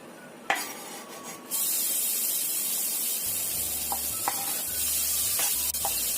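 Garlic and ginger hit a hot pan for a Padang-style crab and oyster-sauce tofu dish and fry in a loud, steady sizzle, with a few light clinks of a utensil against the pan.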